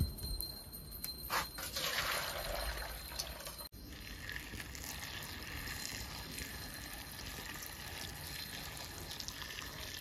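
Hot water runs and splashes as mushrooms are washed one by one, a continuous close trickling wash with a brief interruption early on, steady throughout.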